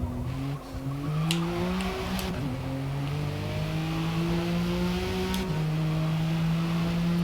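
A race car engine drones continuously through a flying lap in Forza Motorsport on sport versus race tyres, with rising tones through the gears, brief shift dips and faint tyre noise, loud and unbroken.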